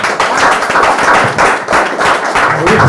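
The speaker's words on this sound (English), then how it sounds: "Give him a round of applause." Audience applause at a poetry and music performance, loud, close clapping from a crowd filling the few seconds without talk.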